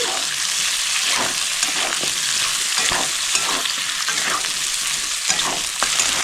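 Capsicum, onion and green chilli stir-fry in a pan over high gas heat, giving a loud, continuous sizzle broken by recurring scrapes and stirring knocks from the spatula.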